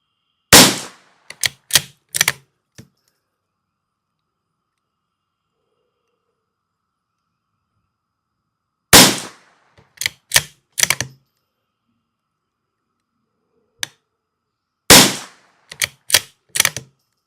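Pistol shots from a Savage Mk II FV-SR during shooting practice, in three sharp bursts of several cracks each, with long quiet gaps between the bursts and a lone shot in one gap.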